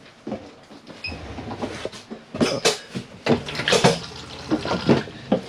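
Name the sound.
motorhome cassette toilet flushing water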